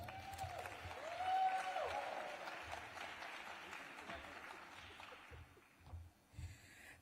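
An audience gives a speaker a round of applause at a conference session, with soft, scattered clapping under faint talk and breathing near the microphone.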